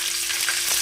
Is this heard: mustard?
yes